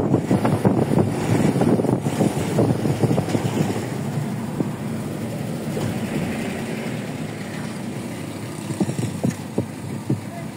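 Steady, heavy wind from a typhoon during high tide buffets the microphone with a constant rumble, low engine-like noise underneath and occasional faint thumps.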